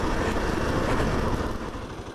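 A motorcycle rides through Wa Shan, Hong Kong, a steady broadband engine and wind roar that stays loud and close throughout, fading slightly toward the end.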